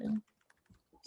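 Typing on a computer keyboard comes through as a few light, scattered key clicks at close range, following a brief burst of voice at the start.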